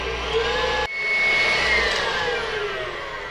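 Electric stand mixer with a whisk creaming butter for a chocolate cake with mint buttercream, a steady loud motor whir that cuts out briefly, then runs again at an even drone with no talking.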